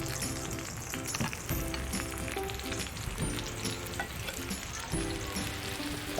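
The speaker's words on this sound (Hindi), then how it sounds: "अब इसमें मैंने ये 3 से 4 अदद जो है ये मैंने प्याज़ें कटी हुई बारीक वो डाल दी हैं।" Finely chopped onions, three to four of them, sizzle and fry steadily in hot desi ghee on a tawa, a dense continuous crackle with occasional stirring scrapes.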